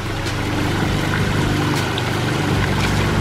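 Water pouring over a newly built pump-fed backyard waterfall, a steady broadband rush with a low rumbling churn, continuous and fairly close throughout.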